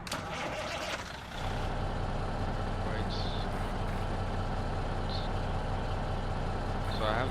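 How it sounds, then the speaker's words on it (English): Peterbilt 379 truck in a video game mod: a loud engine starting up, with a click and cranking followed by a steady low diesel idle, plus faint high chirps. "So start the truck up."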